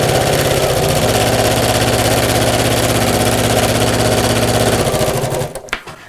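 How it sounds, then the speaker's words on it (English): A sewing machine stitches fabric for a messenger bag, running steadily and loudly with a fast, even mechanical chatter for about five seconds before it slows and stops with a few clicks. "carefully push the outer bag fabric out of the way and carry on sewing"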